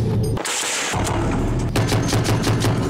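An American Browning 12.7 mm heavy machine gun fires from the roof of an armored vehicle in loud, rapid repeated bursts, close and powerful, with a short pause between strings of shots.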